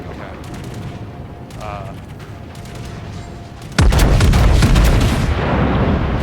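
Anti-aircraft guns fire in a naval combat video game. Light scattered shots and mechanical clatter are followed by an abrupt, loud, sustained roar of heavy gunfire, and a voice speaks briefly early on.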